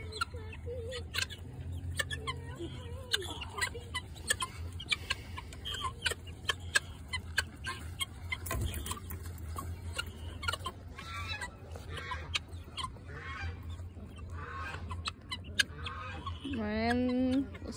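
Guinea fowl being released call and cackle repeatedly in loose, overlapping bursts amid other farm birds, moderately near, while people talk now and then in between.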